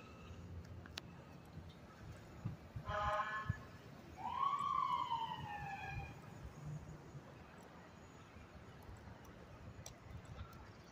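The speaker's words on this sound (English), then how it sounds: "What was that siren?" A distant siren wails briefly, rising and falling a couple of times over a quiet background hum before fading away.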